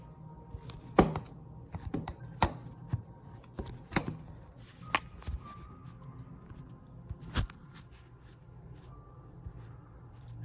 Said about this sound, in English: I'm stirring this one. I keep stirring, okay?